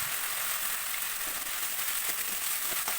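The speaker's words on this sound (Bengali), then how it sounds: "করতে হবে যতক্ষণ না মশলাটা ভালো করে কষা হয় আর তেল ছাড়ে" Spice paste, ground with cardamom and cinnamon and loosened with a little water, sizzles and fries in oil in a pan for a banana-flower kofta curry, making a steady close hiss with faint crackles and no speech.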